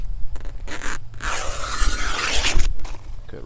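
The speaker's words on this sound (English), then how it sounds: "So what I'm gonna do is show you how to cut them." Banana leaves are cut from the back of the stalk, giving close, rasping tearing and scraping strokes that swell into one long, loud rip before trailing off.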